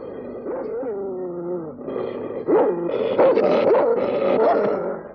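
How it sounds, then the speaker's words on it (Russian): A dog whines and whimpers with rising, pitchy cries, then breaks into louder yelps and short barks, close and continuous for several seconds. "собака что-то учуяла"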